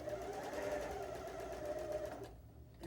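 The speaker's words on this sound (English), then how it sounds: "and continue sewing on." A sewing machine stitching fabric while a quilt block is pieced, running at a steady close-up whir and then stopping near the end.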